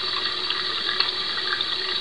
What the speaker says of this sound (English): Don't forget to turn off the water.